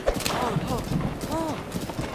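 A horse's hooves gallop in the Breath of the Wild video game, a steady clip-clop under a person talking throughout.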